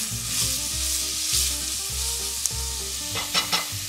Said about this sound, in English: So I'll add just a couple pinches of red pepper flakes. And let's stir that in there.